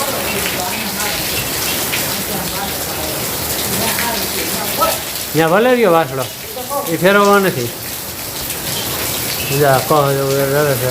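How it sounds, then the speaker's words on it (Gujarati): Heavy unseasonal summer downpour on a farm with summer crops, a dense continuous hiss of rain striking surfaces, with someone speaking over it in the middle and again near the end. "આ અટાણે માવઠું કહેવાય, નુકસાની કહેવાય."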